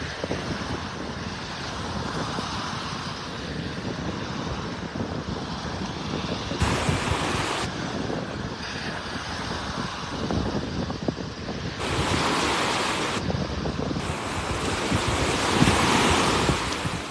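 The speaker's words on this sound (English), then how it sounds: "little waves are breaking out there on the sandbar" Small ocean waves break on a sandbar at a North Naples, Florida beach, a steady wash of surf with gusts of wind buffeting the microphone and swelling louder toward the end.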